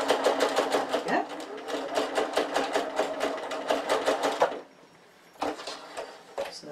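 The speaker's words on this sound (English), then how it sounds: "got it lined up on my machine, little locking stitch to start." Sewing machine stitching a zip pouch seam, a close rapid run of needle strokes for about four seconds, a short pause, then a second brief burst of stitching.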